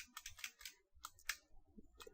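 Keys clatter on a computer keyboard as a command is typed into a console, a quick run of close, crisp clicks in uneven bursts and pauses, alone without talk.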